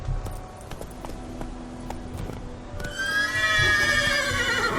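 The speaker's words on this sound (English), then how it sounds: "Come here, horse." In the Witcher 3 video game, a horse gives a loud, shaky whinny in the last two seconds, after softer hoof clops and rustling under steady ambient game sound.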